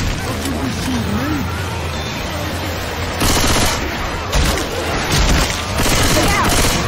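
Continuous gunfire in Left 4 Dead 2, with dense rattling shots and thuds over a busy game soundscape, close and loud throughout while voices talk over the action.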